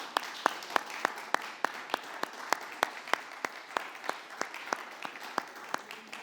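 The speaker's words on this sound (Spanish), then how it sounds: "todos démosle un fuerte aplauso a todas las mamitas en su día" A church congregation applauds the mothers on their day, with steady sharp claps ringing through a moderate-sized room and no voices over them.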